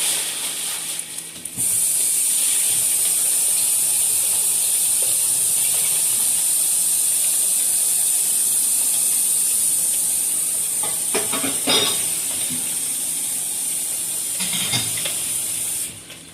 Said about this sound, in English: So now I'm going to wash my hands.